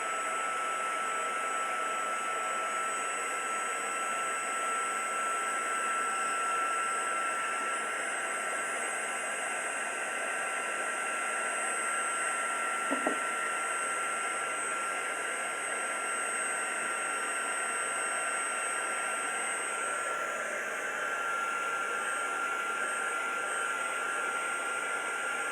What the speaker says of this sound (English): just bring in my heat gun again and just dry this so it's translucent